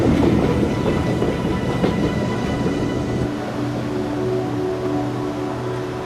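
A train on the Goathland steam railway in Yorkshire passes as a loud, continuous rumble with faint clattering wheels. The roar eases slightly partway through and is heard alone, without voices.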